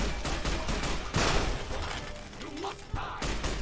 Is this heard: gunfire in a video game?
yes